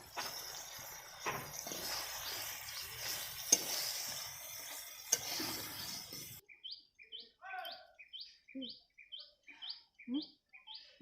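Curry with chili paste sautéing in a pan gives a steady, close sizzle with a few sharp stirring knocks. It then cuts abruptly to quiet outdoor birdsong with rhythmic, repeated chirps.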